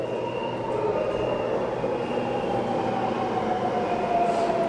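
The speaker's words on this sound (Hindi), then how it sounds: "ये आ गई भाई हमारी मेट्रो," A metro train pulls into an underground station on a Shanghai line, a steady loud rumble with a faint wheel whine and no clear clickety-clack, heard close on the platform without talk.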